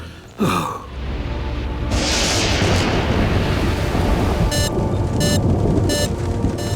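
A sudden deep thunder boom gives way to a long, heavy rumble that rolls on steadily, with a few bright ringing tones near the end.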